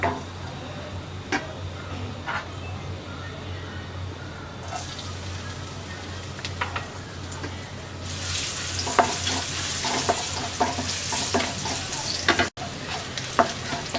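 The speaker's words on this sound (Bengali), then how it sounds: "রসুনটা হালকা ভেজে নেব" Crushed garlic cloves and whole spices fry in hot oil during jackfruit pickle preparation, a steady sizzle that swells louder and brighter midway, with scattered spoon taps and scraping stirs throughout.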